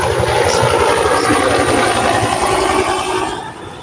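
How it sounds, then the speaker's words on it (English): A helicopter passes overhead, a loud throbbing rotor chop with a whining engine that stays strong for about three seconds before fading off. "Some helicopter."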